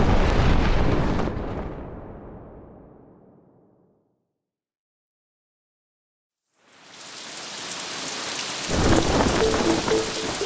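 Thunder and heavy rain as a sound effect in a Batman audiobook: a loud rumble fades into full silence, then rain swells back in and a sharp thunderclap cracks near the end.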